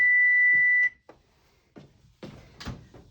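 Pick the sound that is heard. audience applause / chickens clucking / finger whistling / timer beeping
timer beeping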